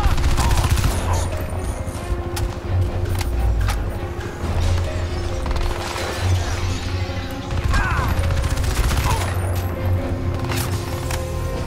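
Gunfire in the video game Crysis 2 crackles in dense, continuous bursts, rapid automatic shots and impacts layered over game effects, with brief voice callouts mixed in.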